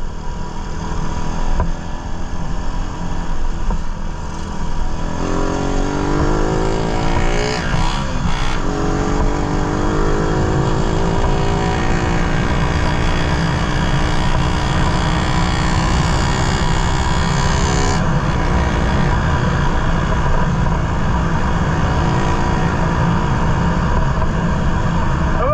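A Suzuki Raider 150 motorcycle engine revs loudly and close by, its pitch climbing and holding in sustained roaring pulls for the whole stretch.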